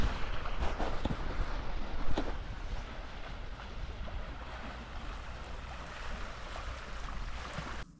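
Choppy sea waves rolling around a small island at a wild camp, a continuous rough wash of surf mixed with gusting wind buffeting the microphone, loud and close, with no talking.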